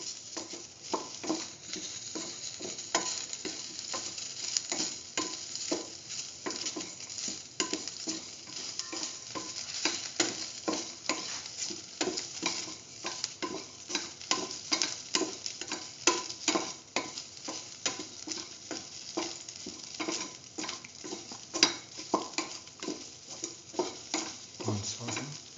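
A soy chunk and noodle mix being sautéed in a pan gives a steady sizzle, with continuous scraping and stirring of a utensil against the pan, close and moderately loud throughout.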